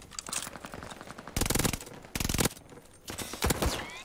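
Nikita AVT rifle fire in Call of Duty Vanguard: rapid automatic bursts in short strings, with two loud sustained volleys among quieter, more distant shots.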